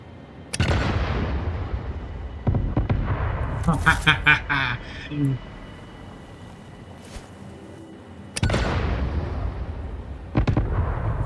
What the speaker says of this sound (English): Cluster bombs are the best.